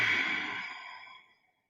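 A single long, breathy exhale during a guided yoga session, soft and close, tapering off smoothly over about a second and a half into quiet.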